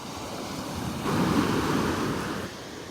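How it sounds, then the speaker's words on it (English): Ocean surf rolling onto a beach in North Naples, Florida, with a steady wash that swells louder in the middle as a wave breaks, then eases back; some wind noise on the microphone, no voices. "the waves pick up again"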